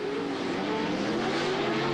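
Pro 2 off-road race trucks roar past during a night race in the 2009 Lucas Oil points season, a dense, loud engine drone with a slowly shifting pitch.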